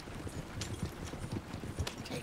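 Horse hooves clip-clop in Red Dead Online, a steady run of soft hoofbeats repeating across the short stretch with no talk over them.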